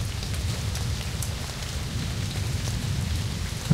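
Steady rain in the video game Amayui: Castle Meister pours down in a dense, even hiss, with a soft low rumble underneath and no voices.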